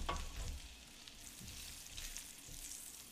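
Sage leaves and garlic frying in butter in a pan, a soft quiet sizzle with occasional stirring clinks, the heat just switched off.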